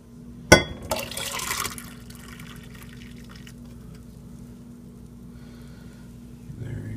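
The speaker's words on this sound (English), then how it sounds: "So now let's pour this out into a cup." Dark chaga tea poured from a stovetop pot into a cup held over a sink: a sharp clink at the start, then a brief splashing pour that fades into a quiet hum.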